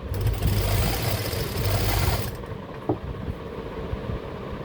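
A sewing machine stitches the hem of a kurta, its motor giving a steady, loud whirring run for about two seconds before dropping to a quieter mechanical hum, with no talking.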